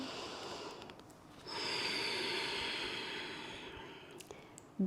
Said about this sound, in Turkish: Bir kez daha nefes aldım.